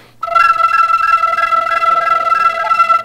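A musical instrument, likely an electronic effects setup, imitates crickets with a sustained tone pulsing in rapid, regular chirps, bright and close for about three seconds.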